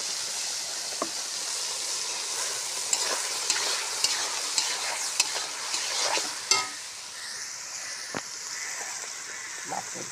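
Ground chilli and onion spice paste for rohu fish sizzles steadily in a pan, with a continuous hiss and sharp clinks and scrapes from stirring at irregular intervals.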